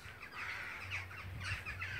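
Rooks flying over a house give harsh repeated caws, several calls overlapping at moderate distance above a low background hum.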